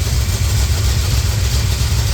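A 1970 Chevrolet Nova engine idles steadily and close by at a little under 1,000 rpm, a constant low rumble with an even, unchanging drone and no revving.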